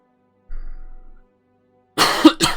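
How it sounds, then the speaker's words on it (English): A man coughs after a drink went down the wrong way, two sharp, close throaty bursts in quick succession following a faint low hum and a brief silence. "Sorry, I'm coughing."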